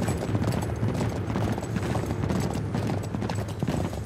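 Horse hooves galloping with a caravan in a sandstorm in Uncharted 3, a dense, continuous rapid clatter held close and loud throughout, with a broad rumble of game action underneath.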